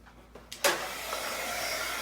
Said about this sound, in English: And I'm going to let the gun heat up.